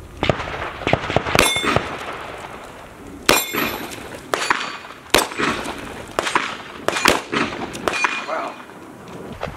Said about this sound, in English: Next will be the 357 Magnum on the steel.